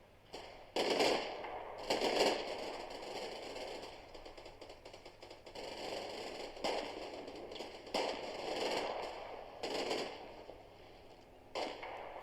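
Gunfire in the Combat Mission Red Thunder war game as troops in foxholes take incoming fire from a woodyard: repeated bursts of crackling, popping shots, some close and loud, others distant, with steady battle noise between them.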